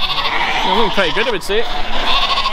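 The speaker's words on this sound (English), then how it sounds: "these are all Maybon black-faced lambs." Black-faced lambs bleating nearby in a few wavering calls, partly under someone talking, with steady background noise.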